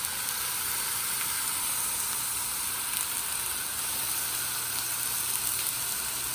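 Brisket sears fat side down in a hot pan over medium-high heat, giving a loud, steady sizzling hiss that runs unbroken throughout.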